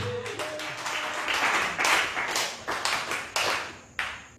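A church congregation claps together after a call to praise Jesus, a dense, steady patter of many hands with sharper accents, fairly close and without speech.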